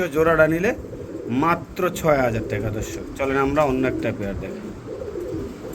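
Pigeons at a market stall, including Andalusian breeds, coo repeatedly in soft throaty bursts close by, their calls mixing with a voice speaking throughout.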